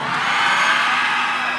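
Sustained crowd cheering for Unduk Ngadau Kaamatan pageant finalists in Kota Marudu, a loud, even wash of shouting voices that swells slightly midway and holds steady to the end.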